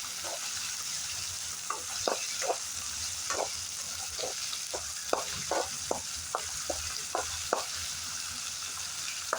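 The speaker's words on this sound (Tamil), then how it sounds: "நல்லா வதக்கி விட்டு நல்லா 5 நிமிஷம் வேகட்டும்." Turkey berries sautéing in a pan for a Tamil kuzhambu, a steady sizzle broken by repeated scraping stir strokes at a loose, uneven rhythm, close and moderately loud with no talk.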